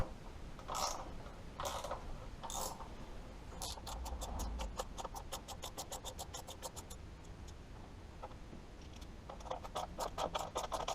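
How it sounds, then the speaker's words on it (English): Rapid runs of light mechanical clicking and ticking as a hand tool undoes screws on the front mudguard of a Suzuki GSXR 750 motorcycle, with a steady low background hum and a few brief pauses between bursts. "Then I undid the 3 screws on the left hand side."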